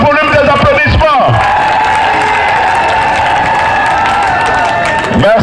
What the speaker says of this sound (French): augmentez encore le volume des applaudissements